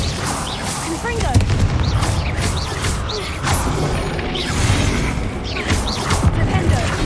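Confringo fire spell blasts in Hogwarts Legacy combat, a dense, continuous run of booming impacts and crashing bursts over game music and effects, loud throughout with several sharp peaks.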